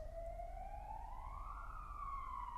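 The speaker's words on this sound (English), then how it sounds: "this card can be, yes, an ambulance or something going past" An ambulance siren wails steadily as it passes, its pitch climbing and then easing back down over a constant low traffic rumble.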